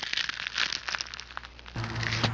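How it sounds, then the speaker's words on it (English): Crinkly rustling of a Doritos chip bag, a series of quick, light crackles and crumples up close and fairly quiet, followed by a sudden steadier hum of background noise. "Thank God the Doritos made a rustling sound."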